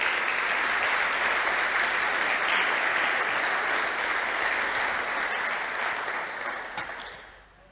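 Sustained applause from a church congregation during a sermon, steady and full for most of the stretch before fading out near the end, with no talk over it.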